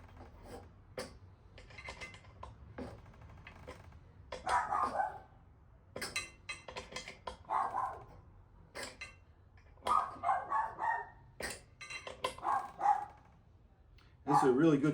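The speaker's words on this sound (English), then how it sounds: "Well, the dog's worked up about something." A dog barks in repeated bursts at a distance during work on a gasoline heater install in a 2014 RAM Promaster van, the yaps coming in clusters through the clip while a voice talks intermittently.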